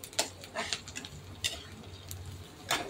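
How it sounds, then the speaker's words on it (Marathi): Peanuts, cumin and mustard seeds sautéing in oil for a chapati chivda, giving soft sizzle with several light spoon scrapes and clinks against the pan, fairly quiet and close, with no talking. "तेलामध्ये चांगले परतून घ्यायचे."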